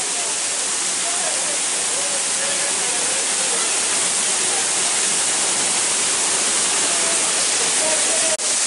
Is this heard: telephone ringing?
no